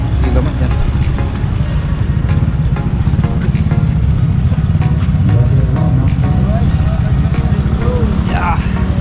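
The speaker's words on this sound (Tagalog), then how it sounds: "Sakay tayo ng motor guys" A motorcycle engine drones steadily and loudly while riding in Cavite, with a constant low rumble and wind noise running throughout and people talking over it.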